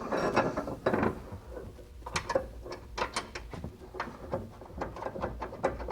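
A wrench tightens a castle nut on the front suspension of a 1967 Mercury Cougar, giving a series of close metallic ratcheting clicks and clanks in uneven bursts, with no speech.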